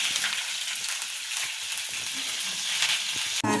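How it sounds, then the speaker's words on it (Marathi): Curry leaves, cumin and mustard seeds sizzle steadily in hot oil, a dense, even crackle throughout with small pops, close and fairly quiet, ending in a brief clatter. "आता कढीपत्ता, जिरे, मोहरी टाकलेत या साईडला"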